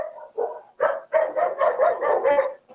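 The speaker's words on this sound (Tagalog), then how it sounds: "Maingay yung aso." A dog barks close by in a quick series of sharp yappy barks, about eight in a row, with no talking.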